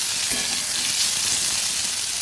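Kabuli chickpeas, paneer and potatoes frying in a pan are stirred, giving a continuous bright sizzle with no talking.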